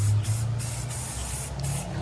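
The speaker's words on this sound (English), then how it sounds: "Just spray your wire black." An aerosol spray paint can hisses close up as it coats wire black, one continuous spray lasting about two seconds with brief dips, no talking over it.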